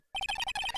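Electronic pager beep from the video game Phoenix Wright: Justice for All, a loud, close run of rapid two-tone chirps that starts abruptly and continues steadily for under a second, with no voices.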